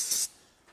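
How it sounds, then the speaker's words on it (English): A spray bottle gives one short, sharp hissing burst onto a cleaning rag while a 2021 Can-Am Maverick Sport Max side-by-side is being cleaned, followed by near silence. "I'm gonna just spray this rag a little bit"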